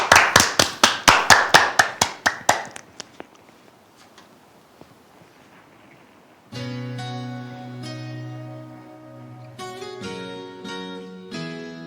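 A burst of rhythmic concert applause, steady claps close together that fade out, then a piano and music begin.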